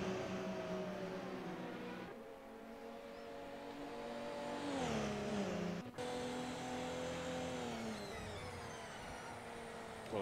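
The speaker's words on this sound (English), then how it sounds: "Gotta love those hybrid noises and sounds. Just the whirling of the turbos and all the other mechanical parts." A hybrid LMP1 race car in a racing video game at the Nürburgring drones loudly near and alone, its engine tone sweeping up and down through gear changes with a whirring turbo whine.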